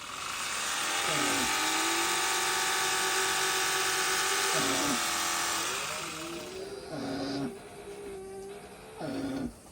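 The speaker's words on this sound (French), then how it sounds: "je fais un peu de bruit avec la machine aussi" Electric shearing clippers buzz loudly and steadily during llama shearing, their motor pitch dipping and shifting repeatedly as the blades bite into the fleece, then easing off near the end.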